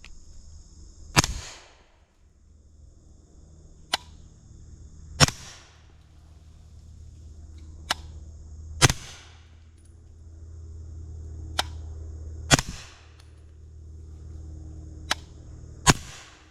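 A suppressed B&T GHM9-SD 9mm fires 115 grain supersonic ammunition in about nine sharp, evenly spaced cracks a couple of seconds apart, each with a short decay, over low background rumble.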